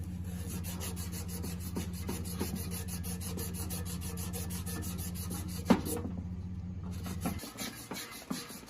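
Steady, continuous rasping of sanding against a hard metal part during a blower motor replacement, with a low hum underneath, a sharp knock near the end, then the sanding stops.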